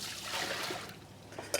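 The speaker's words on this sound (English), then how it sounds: "So we're going to tip more water inside." Water trickles and pours slowly over baby octopus sitting in a colander, a soft continuous splashy wash with a small splatter near the end, close by and alone.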